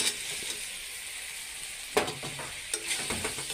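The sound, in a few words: fried potatoes stirred into sizzling spice masala in oil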